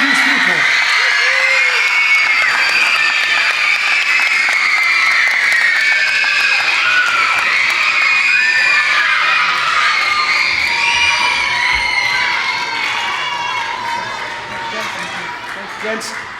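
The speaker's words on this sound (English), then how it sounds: "So big round of applause for these people." Loud cheering, shouting and applause from a school audience of children at a Grade 4 theatre festival, a dense continuous roar that fades slightly toward the end.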